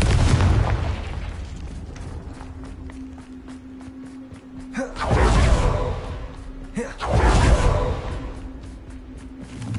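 Confringo fire spell explosions in a video game burst out in two loud booming whooshes a few seconds apart, over a low rumbling game soundtrack with a sustained tone.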